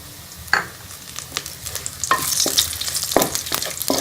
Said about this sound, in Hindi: ये लहसुन के पेस्ट को हम थोड़ा सा फ्राई कर लेंगे और इसी के साथ हम ये तेजपात इसे डाल देंगे